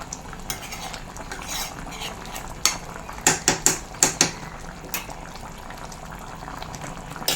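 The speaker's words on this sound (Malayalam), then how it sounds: "നെയ്യ് ഒഴിച്ച് ചെറുതായിട്ടൊന്ന് മിക്സ് ചെയ്യാം" A spoon stirs ghee into simmering ripe banana pieces in a thickening Kerala-style gravy, soft bubbling underneath and a quick run of about five sharp metallic clinks against the pan, close and without talk.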